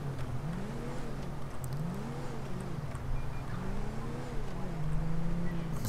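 A car in GTA 5 rolls along at low speed on city streets, its engine humming steadily with gentle rises in pitch, while someone talks over it.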